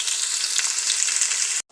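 Cucumber and snails stir-fry in a pan with a steady, dense sizzle and crackle, close and loud, before it cuts off abruptly at the end.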